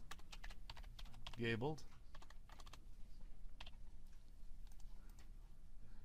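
Typing on a computer keyboard: a steady run of quick, light key clicks close by, with a single spoken word partway through.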